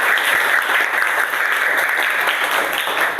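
Steady applause from an elementary school class fills a short stretch, a dense, even patter of many hands clapping at once with no pauses.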